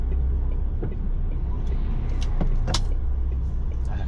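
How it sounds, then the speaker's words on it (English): A truck edging slowly out at a blind corner on a narrow road, its engine a steady low drone close by, with a few faint knocks and clicks over the top. "So I'm just going to edge the truck out"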